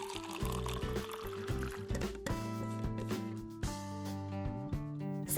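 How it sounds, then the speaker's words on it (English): Milk pouring into a bottle during a roommate prank, a continuous liquid fill with the glugging pitch rising as the bottle fills, close and clear with no talk. "Pour milk in the bottle."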